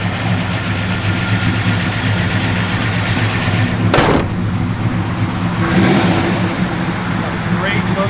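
A 1972 Dodge Demon's engine runs loud and close, a steady rumbling idle with a brief sharp rev partway through and another swell near the end, while someone talks over it.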